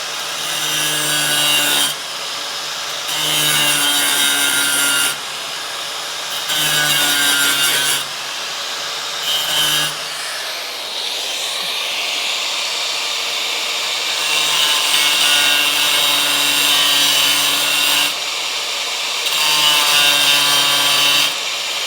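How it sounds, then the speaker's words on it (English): Cutoff wheel grinding across a spot weld on a Dodge Charger crew cab restoration, loud rasping bursts of a few seconds each separated by short pauses, then one longer continuous cut, close up with no talk. "Actually, I might be able to use a cutoff wheel to zap it."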